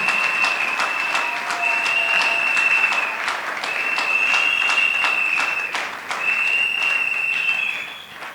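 A church congregation applauds together during a French-language service, sustained dense clapping that runs steadily with slight swells and dips and no speech over it.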